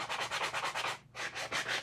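Sandpaper rubs by hand over a chalk-painted surface in quick, even back-and-forth strokes, close and fairly quiet, with one brief pause before the rhythm resumes.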